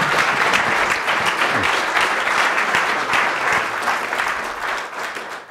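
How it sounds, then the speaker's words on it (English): Sustained, loud audience applause at a ham radio convention fills the room for several seconds, dense and steady before easing slightly at the end. "So let's give a big round of applause to Gerald."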